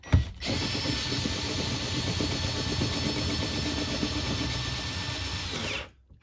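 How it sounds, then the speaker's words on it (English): A powered socket driver tightens a mounting bolt on an RV rooftop air conditioner, with one loud, steady mechanical whir running for about five and a half seconds before it cuts off abruptly. "I'm going to go around it with my socket and tighten them up"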